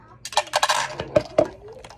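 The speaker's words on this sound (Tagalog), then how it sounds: "this is a blender bottle, comes with a stainless steel ball." Stainless steel ball rattling inside a plastic blender shaker bottle, a few quick metallic clinks and knocks in a brief burst, close and fairly loud.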